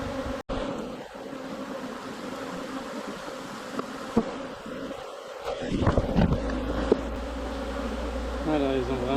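Honeybees swarm and drone around an open hive during a late-summer honey harvest on the Côte de Beauté, a dense, steady buzz close by with occasional knocks and handling noises and a brief fluttering pass near the end.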